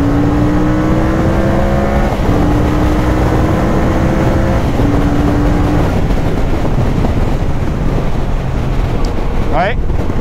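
A CFMOTO 450 CL-C motorcycle pulls hard in third gear up to about 60 km/h, the engine pitch rising in long sweeps through gear changes, loud and close over constant wind roar.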